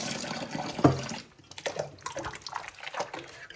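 Water bottles are swished and rinsed in a sink of clean washing-up water, giving a close splash and slosh at first, then quieter intermittent sloshing and dripping.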